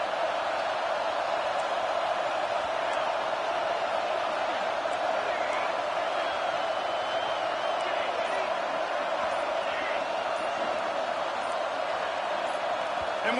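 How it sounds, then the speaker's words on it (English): Stadium crowd in an NCAA football video game roars steadily and loudly throughout, a dense continuous wash of noise with no pauses. "with this place rocking, the crowd forces a false start"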